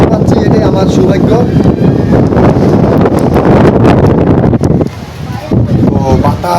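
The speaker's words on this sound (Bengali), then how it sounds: "তো বাতাস সে তীব্রতা এত বেশি, বাকিটা আমি বলতে পারতেছি না।" Strong storm wind during a fierce squall in Chandpur buffets the microphone with loud, roaring rumble and gusting noise, easing briefly toward the end, with a voice partly heard beneath.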